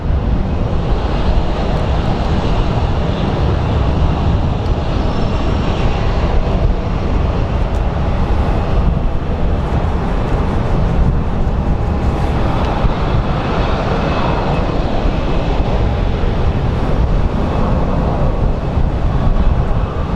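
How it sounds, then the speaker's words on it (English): Loud, steady broadband rumble of an airliner being pushed back from the gate at Phoenix Sky Harbor airport, with continuous engine and tug noise filling the whole stretch without breaks. "Let's watch a pushback for some of you guys that like watching the pushback action."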